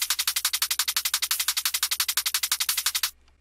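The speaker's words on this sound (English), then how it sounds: "if you really pitch them down and shorten, in slice section, you can shorten each hit to become really snappy." Shaker samples, pitched down and sliced into short, snappy hits, repeat in a rapid, even, chugging stream of sharp clicks for about three seconds before cutting off.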